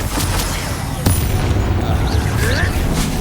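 Confringo explosion spell in the Hogwarts Legacy video game sounds as a loud, booming blast with crackling bursts. A sharp hit lands near the middle, with other game effects and voices mixed in around it.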